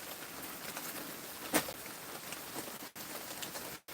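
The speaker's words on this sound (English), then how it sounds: "that rain coming down, y'all. You see it? It's coming down." Steady rain falls in a continuous broadband hiss, moderately loud and unbroken, with a brief tap or knock partway through and no talking.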